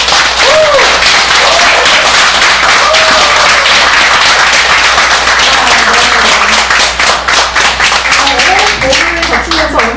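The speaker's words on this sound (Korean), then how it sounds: "다시 한번 뜨거운 박수" Loud, dense applause from a lecture audience fills the room continuously, many hands clapping at once with a few scattered voices underneath.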